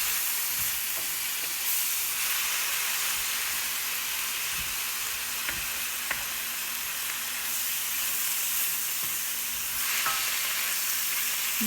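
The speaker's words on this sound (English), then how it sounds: "now I'm going to add the cooking sherry. I'm going to scrape the bottom of the pan." Cooking sherry sizzles in a hot pan as a utensil scrapes the bottom during a gluten-free creamy mushroom chicken recipe with garlic, a steady close frying hiss with a few sharp scraping ticks and no talking.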